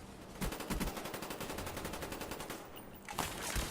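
Rapid automatic bursts from a 74U submachine gun with a grip in Black Ops multiplayer on the Summit map, a fast even rattle of shots running almost continuously, fairly close, with a short pause before firing resumes.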